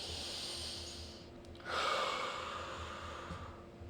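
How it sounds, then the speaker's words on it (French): One deep, audible breath, drawn in sharply and then let out in a long, breathy rush. It sounds close against a quiet room hum, with no talking. "J'ai besoin de prendre un respire."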